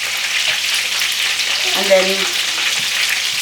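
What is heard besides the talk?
food frying in a pan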